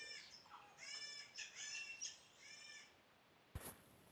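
Distressed trap birds on the level-failed screen of the mobile game Angry Birds Real, a series of harmonic squealing and chirping calls over about three seconds, then a short sharp burst near the end.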